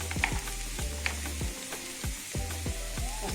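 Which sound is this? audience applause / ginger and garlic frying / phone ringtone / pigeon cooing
ginger and garlic frying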